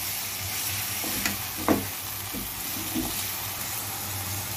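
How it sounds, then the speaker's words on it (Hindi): Minced meat cooking with spices in a pan gives a steady close sizzle, broken by a few soft scrapes and knocks as it is stirred. "मसाले को अच्छे से मिक्स करके करेंगे ताकि मसाला अच्छे से गोश्त में मिक्स हो जाए।"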